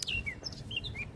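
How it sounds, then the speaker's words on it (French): Several birds chirp and tweet outdoors in short bright bursts spread across the moment, moderately close, over a soft low rumble of open-air background with no one talking. "Écoutez les oiseaux."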